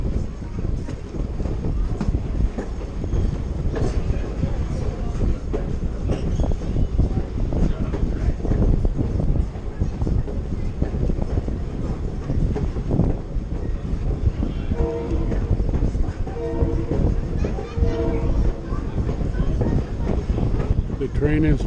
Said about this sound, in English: The train is honking at Felton Junction. Air horn is to signify Felton Junction